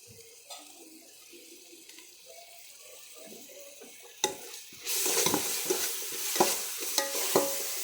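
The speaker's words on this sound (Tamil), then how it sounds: "பேஸ்ட்டு போட்டு நல்லா தாளிக்கும்." Quiet stirring and scraping at first, then a loud sizzle bursts up as ginger garlic paste hits hot oil, frying steadily with spoon clatter.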